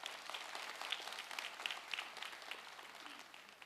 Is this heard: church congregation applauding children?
yes